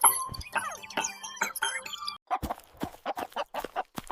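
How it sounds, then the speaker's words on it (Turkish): A chicken clucks in a rapid, busy series of short calls, then a run of sharper, evenly spaced clucks close by with no talking. "Bu bir tavuk."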